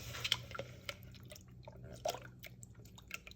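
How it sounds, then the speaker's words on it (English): Water added to a thick homemade tomato meat sauce for spaghetti, heard as faint, sparse drips and small splashes against quiet kitchen background. "So I'm going to go put some more water in here."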